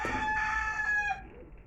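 A rooster crows loudly and steadily with a strained, harmonic call over a quiet background, without the pecking clucks of feeding birds.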